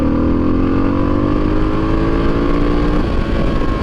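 A motorcycle engine runs smoothly at a steady, loud, close idle without sputtering, with a constant droning hum and a slight pitch drift, and no talk.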